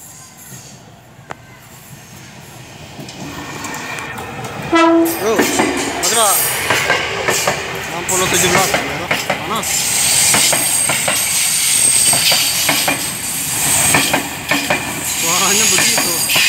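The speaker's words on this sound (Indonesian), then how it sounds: "Persiapan KRL tujuan akhir stasiun Nambo." An electric commuter train, ex-Tokyo Metro 6000 series set 6017, pulls away nearby bound for Nambo, a horn sounding briefly before wheels rumble and clatter over the rails, growing louder, with faint announcements in the background.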